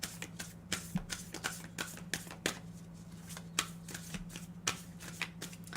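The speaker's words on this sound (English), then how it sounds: "I'm sitting here shuffling." Tarot cards are shuffled by hand in quick repeated riffling bursts, crisp and close, with brief pauses between handfuls and no talk.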